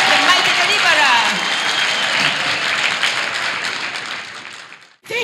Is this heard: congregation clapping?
yes